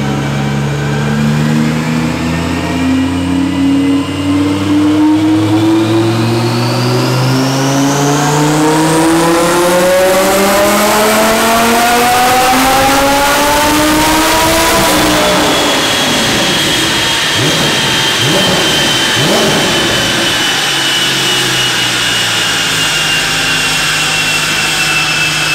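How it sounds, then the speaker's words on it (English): A nearby Audi R8 runs hard on a dyno, its engine revving up in a long loud climb to a high-pitched scream before dropping off and settling back, sustained and dominant throughout. "Neighbors are dynoing one of their R8s right now."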